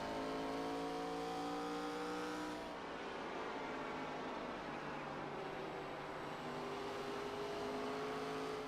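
Race car engines at Bristol Motor Speedway during an ARCA Series event, a loud continuous roar with shifting pitch as cars circle the short track, with no talk over it.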